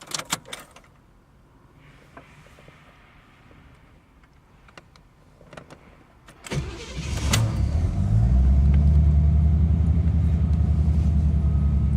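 A 1986 Corvette with the L98 engine cranks and fires after some quiet clicks and shuffling, then settles into a loud, steady, close idle rumble.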